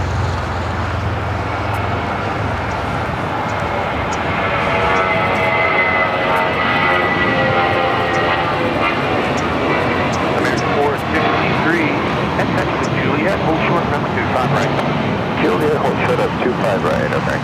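An Aeromexico Boeing 737 MAX 8 from Mexico City arrives at Los Angeles airport with a loud, sustained engine roar that swells and holds steady, mixed with airport background noise.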